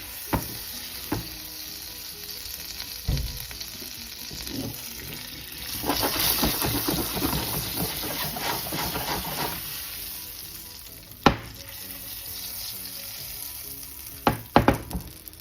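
Butter hits a hot pan for torrijas and sizzles in a broad hiss that swells for a few seconds midway, set among scattered sharp clatters and knocks of cookware, with no voices.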